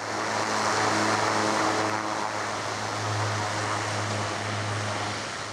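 A propeller plane drones steadily overhead with a continuous engine hum and broad rushing noise, holding at an even, fairly loud level for several seconds with no voices.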